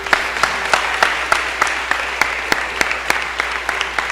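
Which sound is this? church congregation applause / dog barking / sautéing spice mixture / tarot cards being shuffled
church congregation applause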